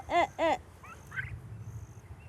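Turkeys on a backyard farm give two loud, close gobbling calls in quick succession, followed by softer chirps and clucks over low background rustle.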